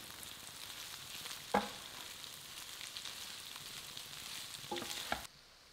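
Crispy pork bubbles and sizzles with slow cooker juices in a pan, a steady close frying hiss broken by a couple of sharp pops and clinks before it cuts off.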